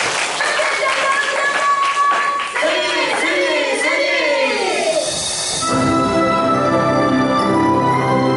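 A church congregation claps together during a Sunday worship service, a dense wash of applause swelling after a moment of speech and sustained to the end.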